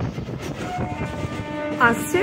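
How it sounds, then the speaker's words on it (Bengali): A passenger train passing under the Bagnan railway flyover gives a close, steady rolling rumble, with a short tonal call near the end and faint voices. "আমাদের ট্রেন এখন বাগনান রেলওয়ে ফ্লাইওভারের নিচ দিয়ে বেরিয়ে আসছে"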